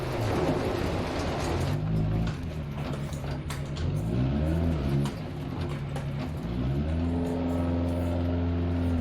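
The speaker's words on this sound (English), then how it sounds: "Am I driving too slow, Ted?" A rally car engine in the Dirt 2.0 video game, revving and shifting through gears in a steady drone with rising pitch sweeps, loud and continuous with no speech over it.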